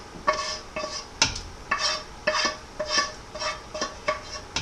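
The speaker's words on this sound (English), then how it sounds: "I'm going to add the roux to it, and that's the flour and vegetable base to the potato and onions and garlic" A flour roux is stirred into a Hungarian potato, onion and garlic dish in a pot, producing regular scraping and sloshing strokes roughly twice a second, close and moderately loud.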